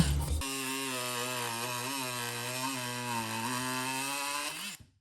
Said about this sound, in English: so I'm just gonna trim those a little bit with the multi-tool.